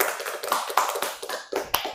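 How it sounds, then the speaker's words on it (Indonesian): A counseling group in a session room claps together, a short run of sharp, irregular hand claps of moderate loudness, fairly close, with no talking over them. "Tepuk tangan semuanya."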